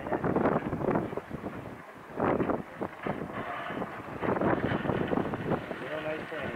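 Wind gusts buffet an outdoor microphone at an RC model air show, a rough, rumbling roar that swells and fades, with people talking nearby.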